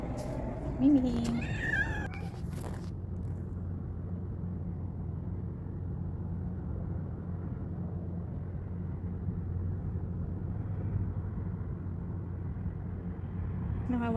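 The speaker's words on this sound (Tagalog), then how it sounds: "Pusa." A cat gives a couple of short meows near the start, then a steady low rumble of traffic or an engine carries on underneath.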